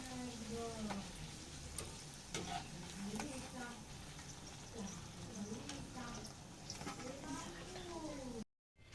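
Luchi dough puffing and frying in hot oil with a constant bubbling sizzle, light ladle taps, and a voice talking softly underneath.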